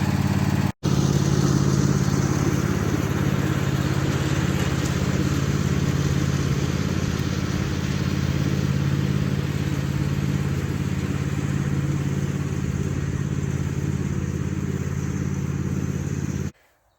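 A small tractor engine idles steadily while warming up, with a constant mid-pitched chug, close by and unchanging, before cutting off abruptly at the end.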